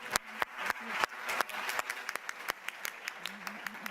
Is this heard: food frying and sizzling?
no